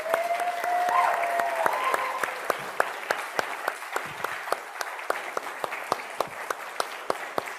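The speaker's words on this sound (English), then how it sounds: "we're going to welcome him back with a round of applause" A congregation gives a round of applause, a dense wash of many hands clapping that slowly thins into scattered, sharper individual claps.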